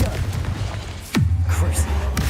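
A Confringo explosive spell in Hogwarts Legacy: a sharp whooshing sweep drops into a deep, rumbling blast that lingers low and loud, with faint busy game sound before it.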